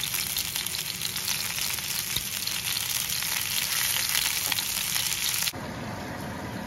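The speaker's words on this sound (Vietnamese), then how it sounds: "Giờ là mình nướng chiên xúc xích." Sausages frying in a hot pan during a cold-weather breakfast cook-up give a steady, dense sizzle that fills the clip. It runs loud and unbroken, then drops in level near the end, with no talk over it.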